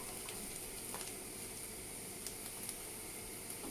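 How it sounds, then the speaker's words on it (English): Carrots and onion fry together in a pan, a soft, steady sizzle with faint crackles and a few light pops, quiet and close with no talk. "Just to fry them a bit with the onion."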